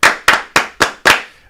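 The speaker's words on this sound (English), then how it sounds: "5 claps." Five sharp hand claps land in a quick, even rhythm, close and loud, with no talking around them.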